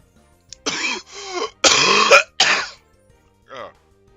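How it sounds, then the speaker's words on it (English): A person coughs in a burst of rough, throaty hacks with throat clearing, four or five close, loud coughs in quick succession followed by a fainter one, during a Monster Rancher 2 live gameplay session. "And there I was just talking about how much less I was coughing."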